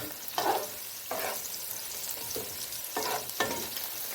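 Onions sautéing in a pan with salt for dal palak, a soft steady sizzle broken by several brief stirring scrapes, fairly quiet and close with no voices.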